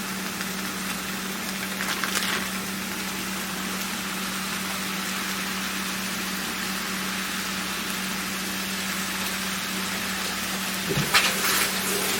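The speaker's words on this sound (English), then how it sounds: "you still have to brown your meat" One pound of ground beef browning in a pan for sloppy joe sauce, a steady broadband sizzle close by that holds throughout, with a couple of brief stirring scrapes.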